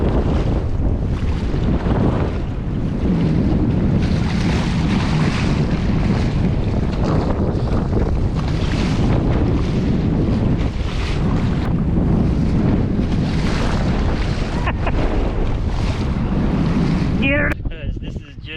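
Strong wind roars steadily across open water around a small fishing kayak in small craft advisory conditions, with gusty microphone buffeting and wave wash throughout, loud and continuous.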